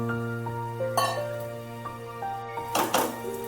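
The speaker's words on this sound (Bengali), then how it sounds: "এবার একটু চাপা দিয়ে দিলাম 5 মিনিটের জন্য।" A metal lid is set onto a pan of posto thor, banana stem cooking with poppy seed on a gas stove, giving a couple of clanking clinks over a steady tonal background.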